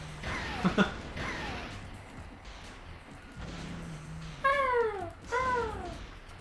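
Cat enemies in the PS1 game Spyro: Year of the Dragon give several clear meows, two pairs of sharper yowls near the end standing out over soft game noise.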